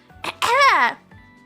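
A single short cough bursts out, followed by a brief voiced rasp that trails off.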